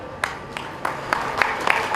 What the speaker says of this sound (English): I would like a round of applause as the felicitation process is continuing.